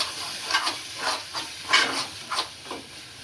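Misal masala stirred through hot oil in a pan for misal pav, a soft hiss with about seven gentle scraping strokes at a steady rhythm, close and fairly quiet.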